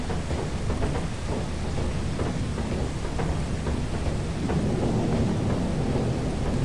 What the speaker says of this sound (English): Or the storm kills us. I didn't realize there was a storm.